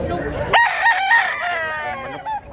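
A big one-year-old rooster crows once, close and loud, the call rising sharply and trailing off over a couple of seconds.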